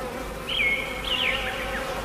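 Honeybees collecting pollen among the flowers of Moranbong in Pyongyang buzz near the listener, a wavering drone that swells twice as a bee passes close over a faint background hum.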